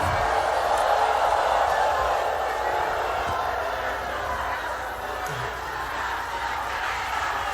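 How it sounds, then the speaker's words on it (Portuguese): A large crowd at a political speech boos and jeers in a sustained, dense roar that holds steady at a loud level throughout, with no distinct single voice standing out. "Merece vaias mesmo."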